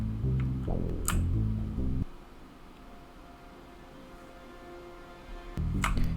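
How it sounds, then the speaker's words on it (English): A Spitfire Labs violin sample plays soft sustained bowed tones that fade into near silence for several seconds, then return, all very quiet and airy. "what I have here is I have a violin from Spitfire Labs"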